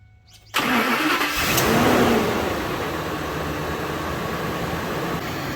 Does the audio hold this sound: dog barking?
no